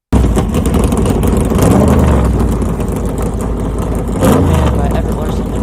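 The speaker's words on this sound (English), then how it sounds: "Gentlemen, start your engines!" Race car engines starting and revving at Talladega, a loud broad engine roar with rising revs from several cars at close range.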